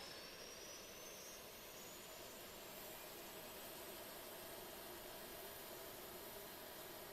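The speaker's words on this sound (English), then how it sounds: "There's the APU." Auxiliary power unit of an Airbus A319 in a flight simulator game, a steady even whine and roar heard from the rear of the aircraft, constant and fairly faint.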